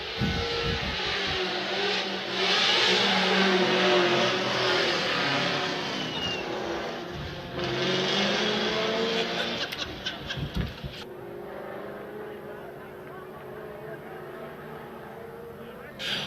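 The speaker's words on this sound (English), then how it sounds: "there's Trenton Beecham making his way to the start line." A Formula Drift car rolls toward the start line at a night drift event, its engine revving loudly in bursts and then fading to a quieter idle, with a commentator talking over it.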